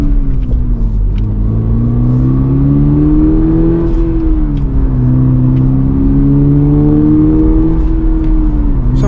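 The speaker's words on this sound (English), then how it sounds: "Pretty good exhaust noise as well coming out the back." A 2024 Toyota GR86 Premium with manual transmission drives along, its exhaust giving a steady, loud engine drone that rises and falls gently with throttle throughout, with no talking.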